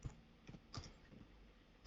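Typing a command on a computer keyboard: a few soft, scattered key clicks, close and quiet, with a louder tap at the end.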